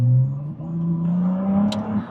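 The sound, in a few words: Ferrari 296 Speciale engine revving under acceleration, kickdown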